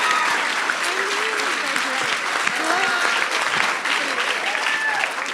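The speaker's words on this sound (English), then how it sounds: "Give her a big round of applause." Audience at a national student grand final breaks into a round of applause, dense continuous clapping from a full room with a few voices and whoops rising over it.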